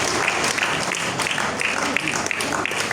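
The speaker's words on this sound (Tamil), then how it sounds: "எங்கே உங்கள் கரகோஷத்தை எதிர்பார்க்கிறோம்" Steady applause from an audience at a Tamil literary festival, hands clapping densely and evenly at moderate loudness for a prize-winning student.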